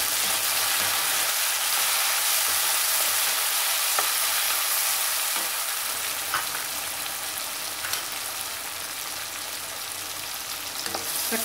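Onions sautéing in a pan for a Sunday lunch chicken dish: a steady, dense sizzle runs throughout, with a few faint clicks of stirring and no talk.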